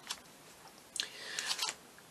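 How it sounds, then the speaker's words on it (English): A leaf cutter presses through rolled-out sugar paste, giving soft crisp clicks and a brief rustling scrape, quiet and close with no talking. "This is the leaf cutter that I'm using."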